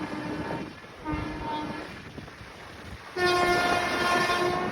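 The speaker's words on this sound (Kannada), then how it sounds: "ಸ್ಟೇಷನ್ ಮಧ್ಯದಲ್ಲೂ ಕೂಡ ಎಷ್ಟು ಸ್ಪೀಡಾಗಿ ಹೋಗ್ತಾ ಇದೆ ನಮ್ಮ ಟ್ರೈನ್." A passenger train speeds through a station without stopping between Munirabad and Ballari, rumbling steadily, a sustained horn blaring twice, the second blast louder and longer, over continuous rolling noise.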